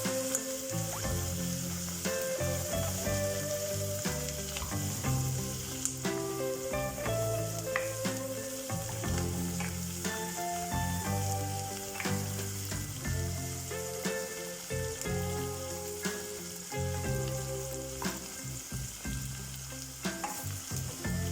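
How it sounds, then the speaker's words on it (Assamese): Chilli chicken fries in a pan for a restaurant-style dry recipe, giving a continuous sizzle with occasional stirring scrapes throughout. "এইখিনি অলপমান 2 মিনিটমান সময় ভাজিব।"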